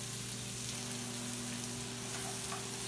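Seasoned ground turkey fries in a pan with a steady, close crackling sizzle that stays even throughout, with no voices over it.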